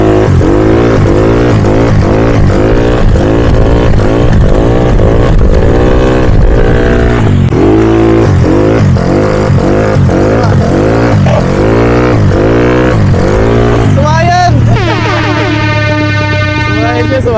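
A Mio 160cc motorcycle engine revs repeatedly during wheelie practice, loud and close, its pitch climbing and dropping in a steady cycle of throttle blips before a sharper high whine near the end.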